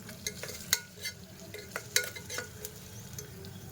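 Onions, green chillies and curry leaves with salt being stirred in a pan, with a soft sizzle beneath scattered clicks and scrapes of a spoon against metal.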